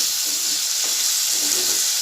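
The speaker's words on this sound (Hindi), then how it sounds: "हमें इसे तेल में अच्छे से तलना है।" Prawns fry in hot oil with a steady, dense sizzle and hiss, close and continuous, with faint stirring underneath.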